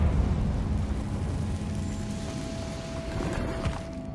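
A Confringo fire-blast spell in the video game Hogwarts Legacy goes off as a loud, sustained roaring rumble that fills the scene without pause for several seconds.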